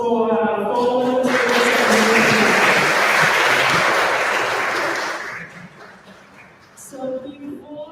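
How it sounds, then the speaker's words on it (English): A crowd claps together at a materials meetup in Hong Kong after a group photo, a dense burst of loud applause that swells for several seconds and then fades out. A voice speaks before and after. "a round of applause for photos"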